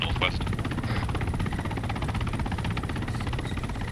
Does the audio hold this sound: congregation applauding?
no